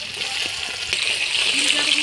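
Chopped onion tipped into hot oil with whole garam masala, cardamom, cloves, cinnamon, bay leaf, dried chilli and cumin, giving a loud steady sizzle and spatter that builds slightly over two seconds, close up and continuous.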